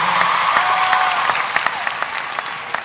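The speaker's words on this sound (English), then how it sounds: "Give yourselves another round of applause" A big comedy-show crowd at a Kevin Hart stand-up performance applauds loudly, a dense sustained roar of clapping with sharp individual claps, slowly tapering off toward the end.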